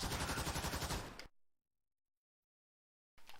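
P-51D Mustang machine guns firing in DCS World, a loud rapid burst of evenly spaced shots lasting about a second, then abrupt silence before a short faint burst returns at the end.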